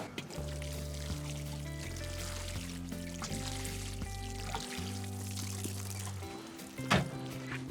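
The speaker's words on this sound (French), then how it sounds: "On arrose copieusement." Water is poured generously over plants in a vegetable garden, a steady close trickle running for several seconds beneath a sustained musical backing.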